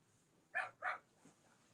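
Indoor dog giving two quick, close barks in succession, then a faint softer yip, over a quiet room background.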